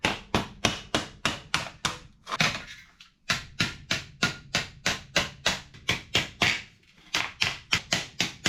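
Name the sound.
hammering a metal car panel seam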